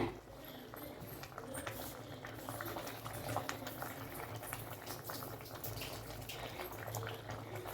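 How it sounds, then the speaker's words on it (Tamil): Water for tomato rice bubbles at a steady rolling boil close by, a soft continuous burble with small pops and crackles throughout. "இந்த அளவுக்கு நல்லா கொதிக்குது"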